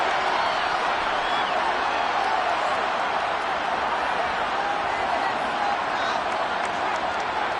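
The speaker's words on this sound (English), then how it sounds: "Shouts from this crowd as they watch the replay." A stadium crowd at a football game shouts and roars while watching a replay, forming a dense, continuous wall of noise at a constant high level with no pauses.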